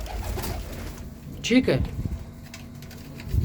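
Pigeons coo softly nearby in a home loft, a brief low warbling call rising amid chatter as people talk over it.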